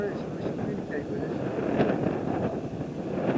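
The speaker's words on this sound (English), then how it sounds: "The wind's picking up now" Wind gusts outdoors near a hermit's cave, a steady broadband rush buffeting the microphone and swelling slightly as it picks up.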